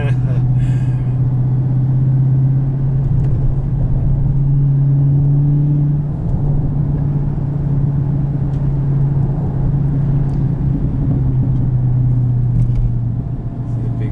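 A 2018 Dodge Demon's supercharged engine holds a deep, steady rumble with a low droning hum from inside the car, while people talk over it throughout.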